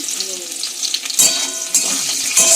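Tomato goes into a pan of frying potatoes, giving a close, steady sizzle punctuated by a few sharp bursts of spattering as pieces hit the hot oil.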